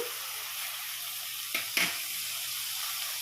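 Onions and tomatoes fry in hot oil in a pan, giving a constant soft sizzle with a couple of short scraping stirs midway, close and without voices.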